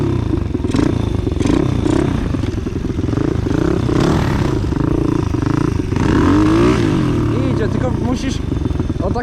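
A motorcycle engine roars loudly and continuously up close on sand, its pitch rising and falling with throttle, while people talk over the noise.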